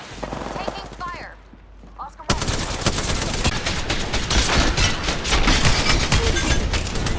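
Sustained bursts of automatic gunfire dominate an Apex Legends match on PS5, loud and nearly unbroken after a short quieter lead-in with faint voices.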